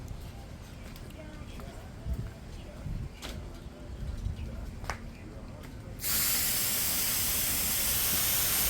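A paint spray gun hisses a coat of paint onto a 1952 Cadillac coupe, starting abruptly after some quiet shuffling and continuing as a loud, steady broadband spray.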